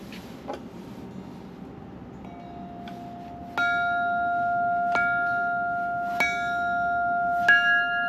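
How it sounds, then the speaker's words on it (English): A small bell at Longwood Gardens in winter is struck four times at a steady pace, each ring clear and sustained, over a quiet background hiss. "I can't walk by without ringing the bell."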